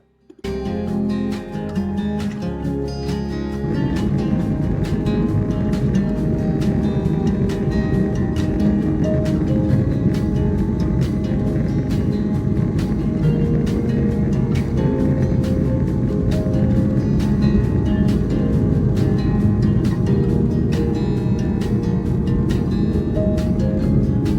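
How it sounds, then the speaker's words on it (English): A United Boeing 757-200 on its takeoff roll produces a loud, steady engine roar that builds within the first few seconds and then holds at full power, heard continuously from inside the cabin with no talk. "it was time for a turn and burn takeoff and the start of our flight"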